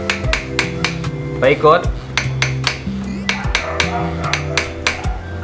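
A small hammer taps a stuck drill bit in a drill chuck with a rapid series of sharp metallic clinks, close and fairly loud, while someone talks in between.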